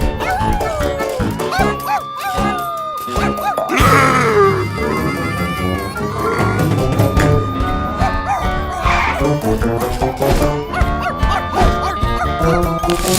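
A cartoon character imitates a dog, giving loud barks and yips layered over busy, continuous background music in a VeggieTales animated scene.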